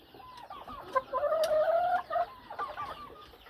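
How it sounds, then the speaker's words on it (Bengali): Brahma chickens of Colombian, American and French strains cluck steadily at close range, forming a dense run of calls through the middle of the clip before easing off, with no talking. "সুস্থ সবল এবং কোয়ালিটি ফুল আমার ব্রাহ্মা মুরগিগুলো।"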